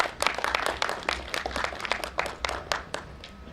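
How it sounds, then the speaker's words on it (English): An audience at a think tank session on assistive technology claps to welcome a panelist, a loose scatter of distinct, uneven hand claps from a modest crowd that thins out toward the end. "Ladies and gentlemen, please welcome Rajiv with a clap."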